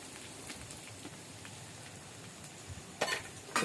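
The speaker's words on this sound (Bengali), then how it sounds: "পেঁয়াজটাকে ভালো করে ভেজে নেবে।" Chopped onions, two medium ones, frying in a pan, giving a steady soft crackle and hiss throughout with a few louder sizzling bursts near the end, close and fairly quiet, with no talking.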